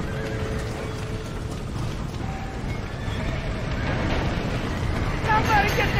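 Horses in a burning barn in the Red Dead Redemption video game, with hoof clatter and distressed neighing in a busy, noisy mix that grows louder toward the end.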